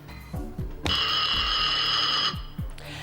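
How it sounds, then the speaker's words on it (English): A game show alarm on Dog Eat Dog blares as a steady, loud electronic buzz for about a second and a half, set among low whooshing sweeps. "an alarm will go off"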